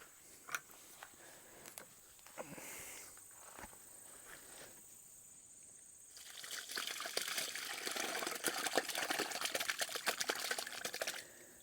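Thick homemade liquid fertilizer glugs and splashes in short bursts, then pours more steadily into a louder, continuous sloshing stream onto stinging nettles, close by with no voices.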